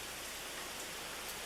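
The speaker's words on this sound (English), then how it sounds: "now the rain's coming straight down" Heavy rain pours straight down during Hurricane Bob in 1991, a steady, dense hiss of water with no breaks, close and even throughout, with no voices.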